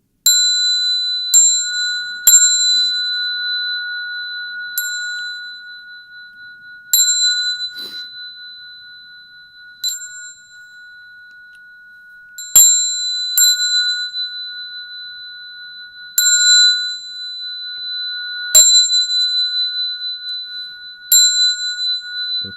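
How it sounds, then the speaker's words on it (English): A bell in a Buddhist sutra-lecture ceremony is struck about eleven times at uneven intervals, each clear strike ringing out with a long, sustained decay, close and alone without talk. "when you hear the bell"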